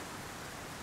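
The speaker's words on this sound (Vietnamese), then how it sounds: "Trời thì đang mưa lớn như thế." Heavy rain pours down as a constant, dense hiss that fills the whole moment, soft and even with no distinct drops or voices.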